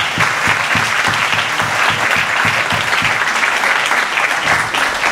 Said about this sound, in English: let's give Dr. Israel and Judge John Payton a round of applause.